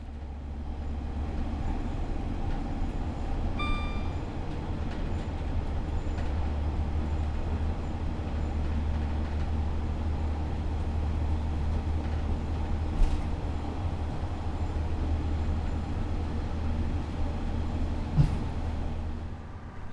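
A Class 142 diesel multiple unit with Cummins engines runs steadily in a train simulator, a deep, constant engine drone with a few faint track-joint clicks and clatters rising above it.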